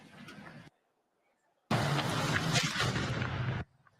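A gas tank or aviation fuel explosion lets out a sudden broad roaring blast that rumbles steadily for about two seconds after a brief gap of silence and then cuts off.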